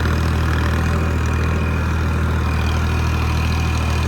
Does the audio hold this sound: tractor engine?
yes